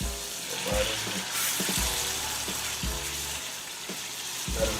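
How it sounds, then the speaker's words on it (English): Chicken pieces frying in a pan, a continuous close sizzle with occasional spatters and the clunks of a utensil moving the meat around. "Let them fry on each side for a few minutes"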